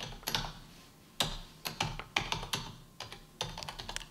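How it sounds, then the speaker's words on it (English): Someone types on a QWERTY computer keyboard, producing irregular clusters of crisp key clicks with short pauses between bursts, close and fairly quiet, with no voices. "I'm going to play the sound of someone typing."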